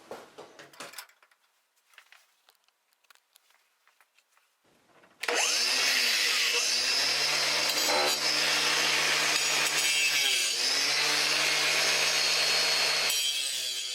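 An angle grinder cutting apart a steel hydraulic coupler guard for a Kubota: a few faint clicks and handling noises, then the grinder kicks in loud and harsh with a steady whine, grinding continuously for about eight seconds before stopping.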